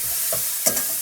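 Food frying in a pan being flipped, a short sizzle with a couple of quick scraping clatters as it turns over, close and alone.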